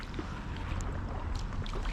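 A small fishing boat moving on open water near Pärnu, with a steady low rumble and wash of water and wind noise running evenly throughout.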